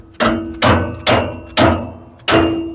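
Hood on a 1967 car front end slammed shut repeatedly, five loud close thuds with a metallic clank, about half a second apart, each followed by a brief ringing decay.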